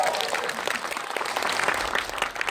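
An audience at a Korean film event bursts into sustained applause, dense, lively clapping with a crowd murmur underneath.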